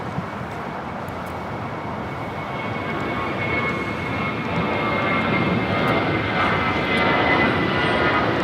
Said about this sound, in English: Dreamliner heading to 25 right, flight 39 heading to Tokyo Haneda, 787-10 Dreamliner